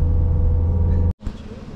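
A car engine revs under load as it climbs a steep road in Mauritius, a steady low drone heard from inside the car that cuts off abruptly near the end before a quieter rumble resumes.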